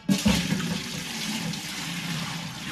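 Whey poured from a pot of raw-milk farmhouse cheddar curds into another pot, a splashing rush of liquid that starts abruptly and then settles into a steady pour.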